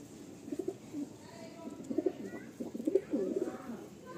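Several domestic pigeons housed in a row of coop boxes coo in low, throaty bursts, the calls overlapping and recurring steadily at close range.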